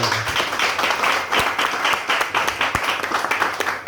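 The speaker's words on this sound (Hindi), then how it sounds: "जोरदार ताली इस इंडस्ट्री के लिए" An audience claps loudly and continuously, a dense patter of many hands swelling in waves, with faint voices underneath.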